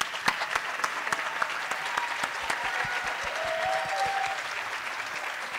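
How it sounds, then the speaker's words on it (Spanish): Studio audience applauds on a TV talk-show set as a guest is called out, a steady dense clapping that holds throughout at moderate loudness with no talk over it. "acompañado de aplauso"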